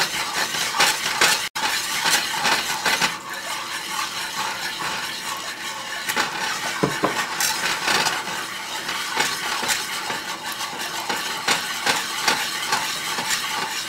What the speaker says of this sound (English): Keep it stirring.